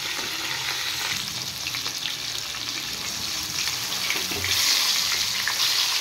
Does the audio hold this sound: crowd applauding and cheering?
no